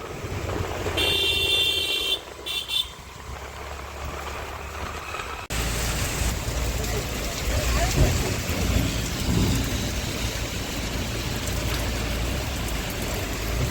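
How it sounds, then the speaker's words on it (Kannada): Heavy rain begins to pour over a busy street market in Bijapur, a dense steady hiss that sets in abruptly halfway through and holds loud and close, with faint voices and traffic underneath. "ಮಳೆ ಸ್ಟಾರ್ಟ್ ಆಗೇ ಬಿಡ್ತು."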